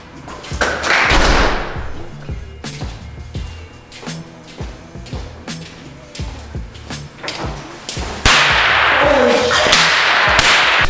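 Red snap crackers thrown down onto the ground burst in a rapid series of sharp, loud pops and cracks, scattered and irregular, with a denser hiss of noise near the end.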